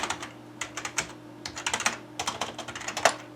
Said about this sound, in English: Oh, I love this keyboard.